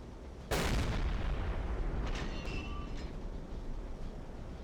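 Naval gunfire firing star shells in the Silent Hunter 3 submarine game: one heavy boom near the start, then a long rumbling decay with faint distant crackles and a thin whistle.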